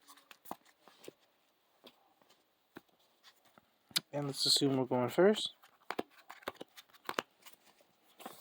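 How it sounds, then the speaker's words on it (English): A Yu-Gi-Oh card deck is shuffled with light clicks and snaps at close range, sparse at first and then busier, while someone speaks briefly partway through. "we're going to get into some test hands once I shuffle the deck up"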